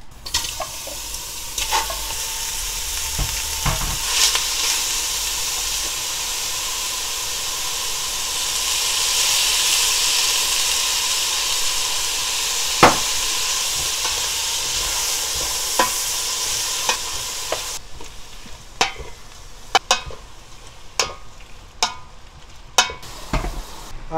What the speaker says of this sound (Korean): 참기름을 넣고 볶아줘야 돼